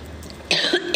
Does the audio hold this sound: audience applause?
no